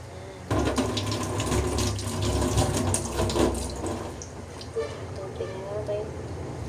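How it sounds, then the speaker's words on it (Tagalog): Tap water gushes steadily into a sink, close and fairly loud, while voices talk over it. "Tubig!"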